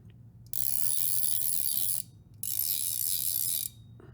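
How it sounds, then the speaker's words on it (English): The adjustable, reversible click pawl of an Orvis CFO III fly reel ratchets in two fast, buzzing bursts of about one and a half seconds each, crisp and close, separated by a brief pause. "It's definitely got a more traditional click pawl mechanism in here, and it is both adjustable and reversible"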